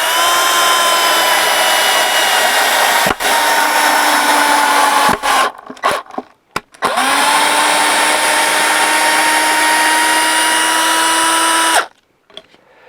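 Cordless drill-driver running at first speed while driving a screw, a steady loud whine broken by a few brief stops and restarts, then cutting off near the end.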